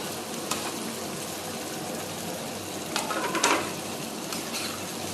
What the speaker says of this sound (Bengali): এটা একটু ফ্রাই হবে